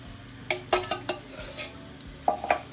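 Ground beef and drained diced tomatoes cook in a single pot, a soft sizzle under a few scattered clinks and scrapes of stirring.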